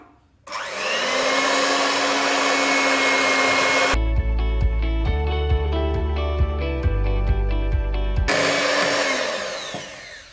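An electric mixer whirs steadily through butter and powdered sugar for a no-oven Black Forest cake, a loud continuous motor drone that shifts to a lower, buzzier tone midway, then returns to the higher whine before cutting off.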